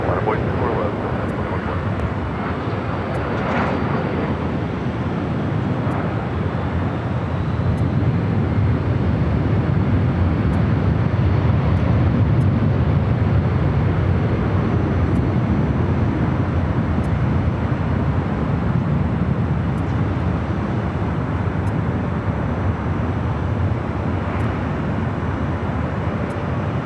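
An airplane takes off from runway 24 left at LAX, producing a loud, sustained jet roar that fills the whole stretch without letting up.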